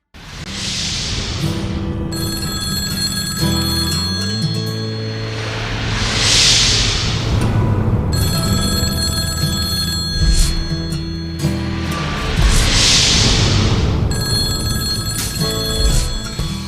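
A telephone rings at a lone phone booth in the Mojave desert, a steady electronic ring that repeats in long bursts, and faint whooshing wind drifts between the rings.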